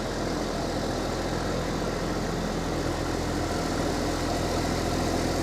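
A tractor engine runs at a steady idle, a constant, close rumble that holds even and unbroken with no speech.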